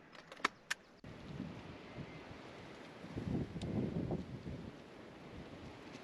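Strong, gusty wind buffets the microphone outdoors during crow shooting in extreme weather, a steady low roar that swells into heavier gusts midway, with a couple of sharp clicks near the start.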